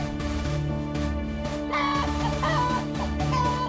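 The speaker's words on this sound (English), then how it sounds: "Suddenly, they heard the hens clucking." Cartoon hens cluck repeatedly over a busy musical background, their calls coming in short bursts.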